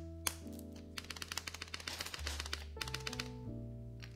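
Rapid typing on a mechanical keyboard with a carbon fiber plate, a NEO Element Ultimate G67 prototype build, produces crisp clacky keystrokes in quick bursts over a quiet background with faint musical tones.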